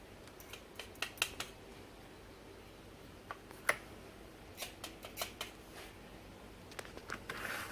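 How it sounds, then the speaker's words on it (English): Scissors snip tube feet from a crown-of-thorns (COTS) starfish, giving sharp, irregular little clicks and snips, some in quick pairs and clusters, close and fairly quiet. "the other way of doing it is literally just grabbing the feet and cutting off some material."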